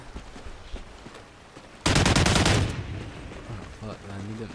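A loud, dense burst of rapid gunfire in a free-for-all online shooter match erupts after quieter game sounds, lasting under a second, followed by a player talking.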